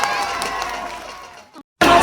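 An audience bursts into clapping and cheering, loud and close, which breaks off into a brief silence before another burst of applause erupts.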